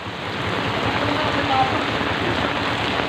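Heavy rain pours down during a flood in Paco, Manila, a loud, dense, continuous roar of water drumming on surfaces close by, steady from start to finish.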